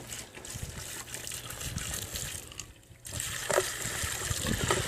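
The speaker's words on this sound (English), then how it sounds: "hot water and that mixture is pouring down my sump pump, down the wall inside" Hot water mixture pours and trickles down a sump pump outlet in cold weather, a steady close liquid flow that dips briefly before continuing.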